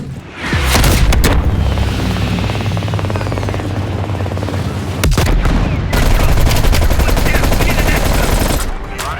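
Heavy gunfire and explosions in Call of Duty: Black Ops Cold War, a loud continuous barrage of rapid automatic fire with deep booming blasts and a helicopter-like rumble, briefly dropping then surging again.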